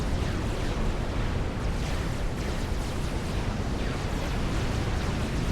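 Missile explosions in a naval strategy video game set a dense, continuous roar of blasts and rumbling over a wide band, loud and steady throughout with no voices.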